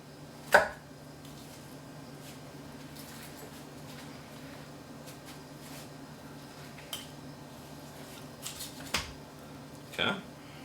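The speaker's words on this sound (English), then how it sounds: "Slicing down." A knife slices down through cooked Thanksgiving meat at home, sparse soft cuts and clicks against a board, with a sharp tap near the start and a few more toward the end over a quiet room.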